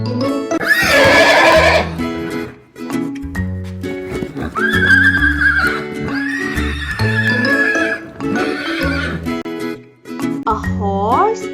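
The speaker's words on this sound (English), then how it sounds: "A horse neighs." A horse neighs loudly in several drawn-out whinnies, with hoof clip-clop, over a bright children's music backing.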